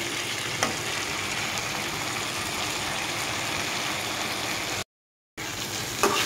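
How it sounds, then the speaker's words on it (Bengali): Spice paste for a vegetarian Bengali biryani, made without onion or garlic, fries in a pan with a steady, even sizzle and one brief break near the end. "হয়ে গেছে মশলাটা আমার ভাজা।"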